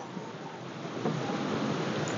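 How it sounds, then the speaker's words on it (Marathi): Strong wind roaring steadily outside a hilltop temple on a cold evening, a continuous broadband rush with slight gusting swells and no voices. "बाहेर सोसाट्याचा वारा सुटलाय."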